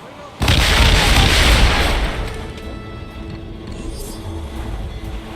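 Ship cannons in Assassin's Creed Rogue go off in a loud, booming broadside. The blast is followed by a long rumbling tail that fades into steady battle noise and sea ambience.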